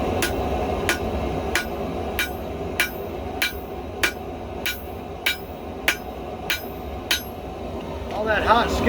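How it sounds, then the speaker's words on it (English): Hot steel gets flattened with a hammer, about a dozen sharp metallic blows at a steady, even pace over a constant background roar, likely from the forge. "We're going to try to beat on it and get it a little bit flatter."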